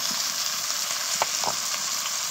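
Washed, cleaned chicken pieces go into spices already frying in a pan, along with whole garlic and potato, giving a steady broadband sizzle throughout with a couple of brief stirring clatters midway, close and alone without talk.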